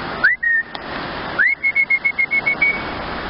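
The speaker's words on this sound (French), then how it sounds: "Quand je siffle, il obéit de suite" A person whistles to call a dog outdoors: one short rising whistle, then after a pause a rising whistle followed by a rapid series of pulsed notes at steady pitch, loud and close.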